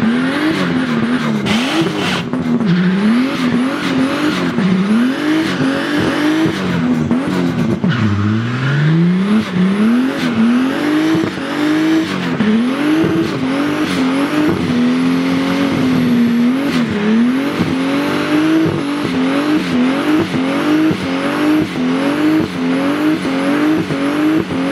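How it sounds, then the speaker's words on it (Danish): A Toyota Supra doing a burnout at a motorsport burnout event in Frøstrup in 2018: the engine revs hard in repeated rising and falling sweeps while the tires squeal continuously, loud and close throughout. "bil nummer 10, rallet med hans Toyota Supra, der er på banen lige pt."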